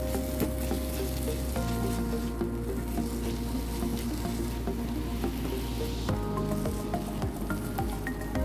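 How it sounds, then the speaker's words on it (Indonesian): Sliced spring onions stir-frying in seasoning in a pan, a close, steady sizzle with repeated scraping and stirring of a utensil and small wet squishes, no voices. "Lalu tumis kembali hingga daun bawangnya sedikit layu."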